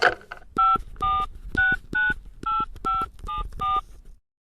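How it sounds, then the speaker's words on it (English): A telephone number is dialed on a touch-tone keypad: about nine crisp beeps in an even, quick rhythm, close and clear against silence. "grabbed the phone and dialed the number of the office in Paris that made the bookings"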